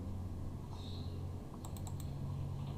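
A computer keyboard is tapped while entering an Excel formula, a short burst of quiet key clicks near the end over a faint low hum.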